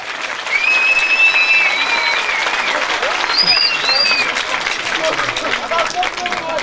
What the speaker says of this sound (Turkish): Bir alkış alalım mı?